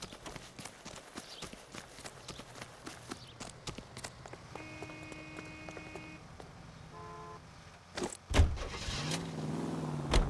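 Low car engine hum from L.A. Noire Remastered rolls along steadily with faint clicks and a brief tone, then the engine revs up loudly near the end as the car pulls away.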